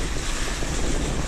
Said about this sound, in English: A few breaking waves on the bar there.